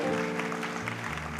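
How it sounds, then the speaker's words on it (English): Applause for new workers at a university consecration service, a broad steady wash of clapping with sustained tones from an organ or music underneath. "A round of applause, please."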